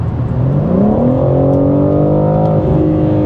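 A BMW M3 xDrive in sport mode accelerates hard, its engine note climbing steadily through a held gear, loud and close with a continuous rising rev and no talk.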